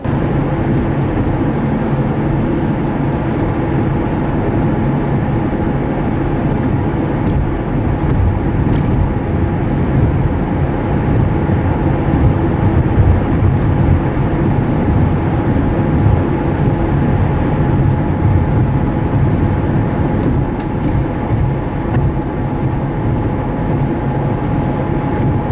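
Steady broadband road noise from inside a car driving in traffic, a constant low rumble of engine and tires holding at one level throughout with no talking.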